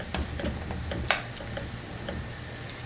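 A vegetable curry cooks over medium heat in a pan, giving a steady low frying sizzle with faint stirring scrapes and one sharp utensil clink, close by, no one speaking.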